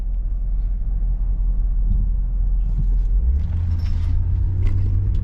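A Jeep WJ in poor mechanical shape drives through a residential block, giving a steady, loud low engine and road rumble that deepens and grows heavier partway through, with no talking.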